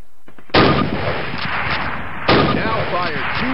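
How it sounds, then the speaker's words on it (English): Two loud rifle shots crack out about 1.7 seconds apart during Call of Duty classic training, each a sharp blast with a short ringing tail, fired at a target in the video game. "Move to the fence and fire two rounds at your target."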